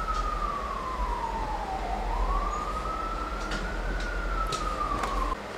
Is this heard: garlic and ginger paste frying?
no